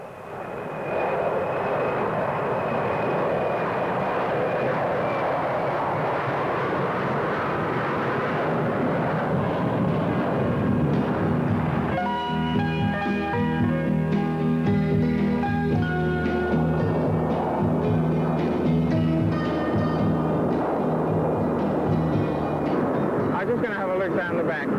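Old propeller airliner taking off, the engines a loud continuous droning roar that builds with rising throbbing tones as power comes up, while people talk over an intercom.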